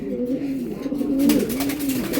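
A racer pigeon coos in a steady, throaty, rolling rhythm, close and moderately loud, continuing without a break.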